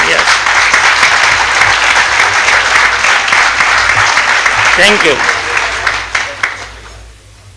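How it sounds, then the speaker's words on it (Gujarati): An audience gives loud, sustained applause to a professor at a motivational talk. The clapping is dense and steady, a voice speaks briefly partway through, and the applause then fades to near quiet. "અમે જોરદાર તાળી તમને વધાવીએ હેતલબેન"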